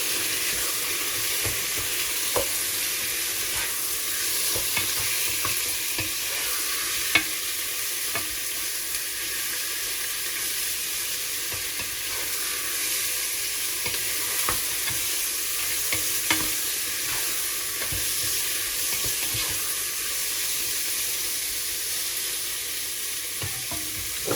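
Beef frying in a pan for Bosnian goulash, a continuous soft sizzle with scattered clicks and scrapes of stirring, fairly quiet and steady with no voices.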